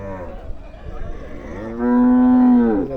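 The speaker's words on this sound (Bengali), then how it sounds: "এখানে দেখতে পাচ্ছি গাই গরু" At a busy rural cattle haat in Rupganj, a cow lets out a long, loud, close moo after a stretch of low murmuring background.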